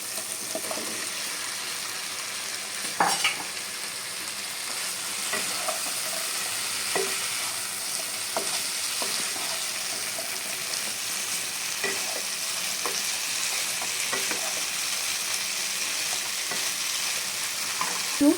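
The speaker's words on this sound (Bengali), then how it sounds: "এখন আমি এই সজনে ডাটাটা দিয়ে দেবো এই সজনে ডাটাটা এখন আমি এর ভিতর দিয়ে দেবো" Drumstick pieces (sajne data) frying in a cooked-down spice paste with oil, a steady dense sizzle under regular scraping stirs and occasional clinks of a spatula, heard close throughout.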